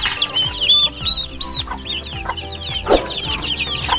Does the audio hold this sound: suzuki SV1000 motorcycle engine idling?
no